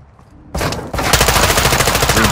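Gunfire in the video game Modern Warfare II, a loud near burst of rapid automatic shots that begins sharply and keeps up as dense overlapping fire to the end.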